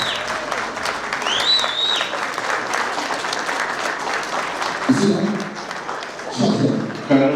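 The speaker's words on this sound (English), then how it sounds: "Round of applause, please, come on!" An audience applauds at an award ceremony, with sustained, dense clapping that fills the hall throughout. A voice speaks over it near the end.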